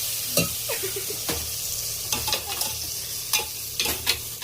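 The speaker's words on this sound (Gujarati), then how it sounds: "આયુષી વઘાર કર્યો લે," Spices tempering in hot oil for a rajma dish, a steady broadband sizzle with sharp crackles and spatters bursting out every second or so, close and fairly loud, with faint stirring, no voices.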